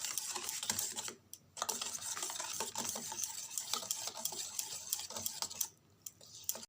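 Cake batter of flour and baking soda being stirred in a bowl for an eggless, ovenless Christmas cake, a steady run of soft scraping and clicking strokes with two brief pauses.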